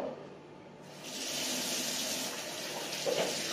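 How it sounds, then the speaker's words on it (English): Water streams steadily from a hotel sink tap for washing hands, a soft continuous rush that starts a second in and carries on close by without talk. "Okay, so I'm going to wash my hands."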